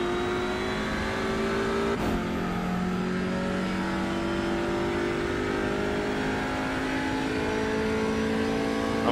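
Racing engines of TCR touring cars in iRacing at Circuit Gilles-Villeneuve drone steadily and loudly, several cars' tones layered with shifting pitch, a brief gear-change or contact transient near the start.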